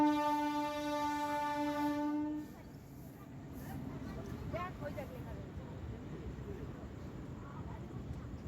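At a level crossing, a train sounds a loud, sustained horn for about two seconds, then gives way to a steady rumble as it passes close by.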